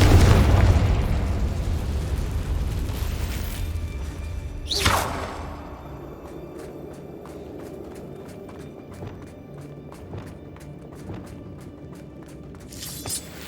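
A Confringo fire spell in Hogwarts Legacy bursts with one loud explosive blast, followed by a sharp crack about a second later and a trail of lighter clicks and footsteps.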